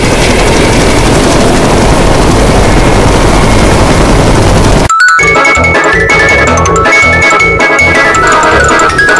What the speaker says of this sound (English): Man, look at that helicopter.